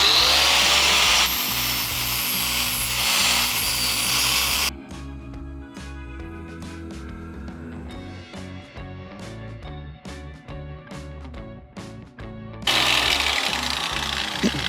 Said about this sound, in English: I think we'll get the grinder on here and start seeing what we can find.